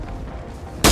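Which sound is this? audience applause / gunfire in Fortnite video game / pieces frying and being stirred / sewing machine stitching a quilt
gunfire in Fortnite video game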